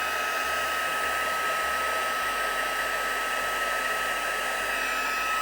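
A heat tool blows hot air over journal page embellishments, producing a continuous loud, even whooshing roar that runs unbroken throughout, with no talking.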